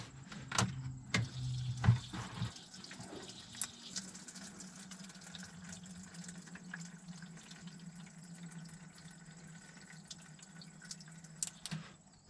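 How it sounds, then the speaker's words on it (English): Diesel fuel drains from a semi truck's Davco fuel water separator in a thin, steady trickle after a few splashy drips at the start, faint and close. "So I'm going to drain some more fuel out of there."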